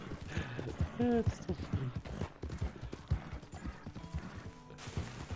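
Rhythmic clip-clop of horse hooves in Red Dead Redemption 2 Online, a steady trotting beat of close thuds with faint mechanical rattles, while a person talks over it.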